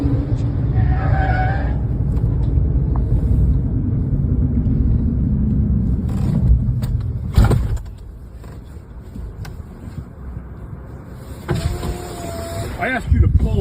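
A car driven recklessly during a road rage incident rumbles close by with engine and tyre noise, engine roar fading after a loud thump, then quieter passing traffic, while people talk.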